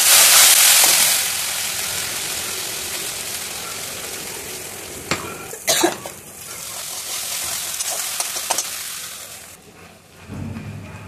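Ginger-chili paste sizzles loudly in hot oil, a broad crackling hiss that fades to a steadier fry, broken by sharp clinks and scrapes of stirring near the pan.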